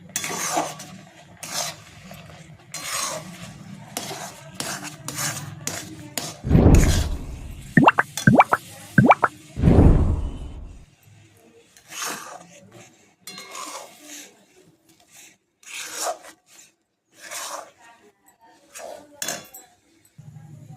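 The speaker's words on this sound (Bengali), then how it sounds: "এইভাবে নাড়িয়ে নাড়িয়ে জলটাকে শুকনো করে নিতে হবে।" Semolina dough being stirred in a pan until its water dries out for spicy semolina balls, with repeated scraping and clinking of a utensil against cookware, a loud burst of clattering midway, then quieter intermittent knocks.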